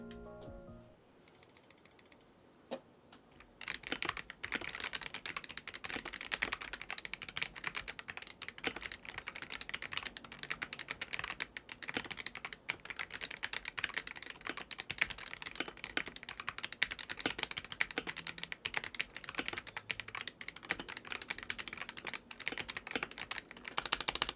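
Continuous fast typing on a Redragon Nephrite K736 Pro magnetic keyboard with its switches and keycaps fitted, a dense stream of close, crisp key clacks and thocks with no talking.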